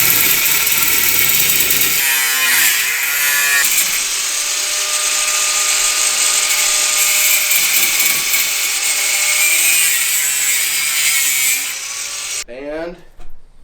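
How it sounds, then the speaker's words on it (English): An angle grinder hand-cutting sheet metal for a Jaguar exhaust in a V8-swap build, a loud, close, sustained high-pitched whine and scream that runs for many seconds before the disc spins down at the end. "hand cutting with the angle grinder, I think that's pretty good"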